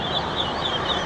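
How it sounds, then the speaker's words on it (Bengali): Ducks at a poultry market give a steady run of close, loud quacking and clucking calls, repeating in short bursts with no talk over them. "একটা হাঁস দেখতেছে আমাদের পলাশ ভাই।"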